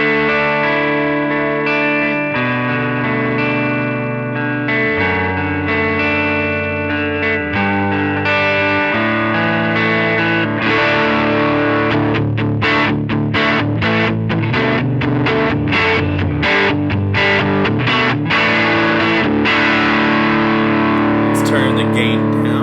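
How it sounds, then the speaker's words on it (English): An electric guitar on the neck pickup plays through a distortion pedal on an HX Stomp set to gain 3, giving sustained overdriven chords that give way to choppier strummed notes, loud and upfront with no talking. "this is a distortion pedal, but you can get some good overdriven tones with a distortion pedal"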